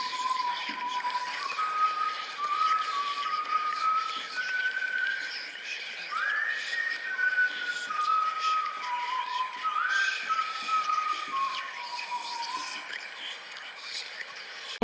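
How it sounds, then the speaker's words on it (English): A person whistles a slow, wavering tune on a played-back phone message over a faint hiss, the notes sliding up and down for several seconds. "I think it is somebody whistling."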